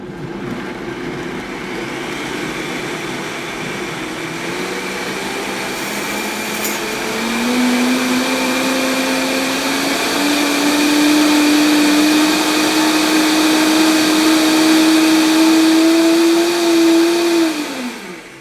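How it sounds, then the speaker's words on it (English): A Vitamix blender pureeing soup on low whirs steadily at close range, its motor pitch slowly rising and growing louder before cutting off at the end. "I have my Vitamix all set up"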